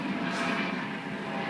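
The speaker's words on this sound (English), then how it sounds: "Sorry about the helicopter, what can I do?" A helicopter over Los Angeles, a steady loud rotor and engine drone filling the whole short stretch with no other sounds.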